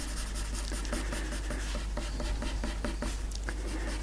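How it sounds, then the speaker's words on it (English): Graphite pencil shading across paper for a sketch of a French Bulldog, a steady close scratchy rubbing with repeated short strokes, heard alone with no talking. "you can put the weight on your pencil"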